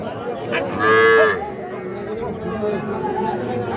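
A single loud moo from a cow cuts through a busy cattle market crowd murmur, with people talking nearby throughout.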